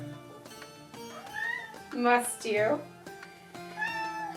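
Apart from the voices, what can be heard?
cat meowing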